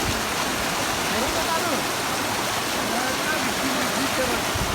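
Water pouring out through a breached pond embankment during the rainy season, a steady, loud rushing flow like a small waterfall, constant and unbroken throughout.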